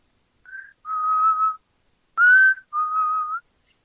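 Someone whistles a short tune: four clear notes, mostly long and steady, with brief pauses between them, in an otherwise quiet room.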